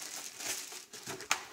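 Plastic packaging around a Lenovo keyboard crinkling and rustling close by, ending with a sharp crackle as it is pulled open.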